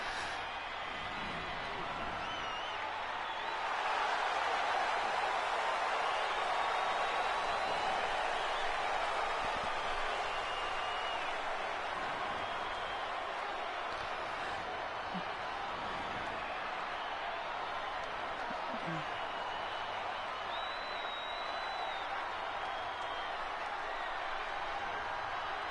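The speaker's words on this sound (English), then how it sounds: "boos from these fans here in New Jersey" Crowd in a WWE 2K25 video game wrestling arena at a New Jersey SummerSlam event sends up a steady, broad roar of booing that swells slightly after a few seconds and holds throughout, continuous and fairly loud.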